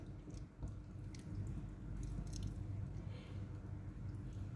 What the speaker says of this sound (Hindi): इन्हें इसी तरह से हाथों से दबाते हुए पैक कर लेंगे